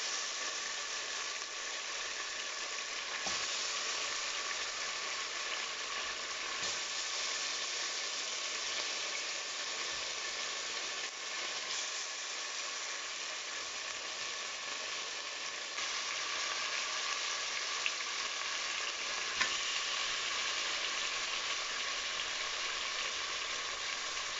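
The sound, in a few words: Jamaican oxtail searing and sizzling in a pot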